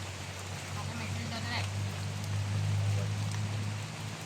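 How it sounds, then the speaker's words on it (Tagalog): Steady rain patters on a surface with a low droning hum underneath, and a voice is briefly heard. "Ulan o. Magtrabaho mo. Ulan."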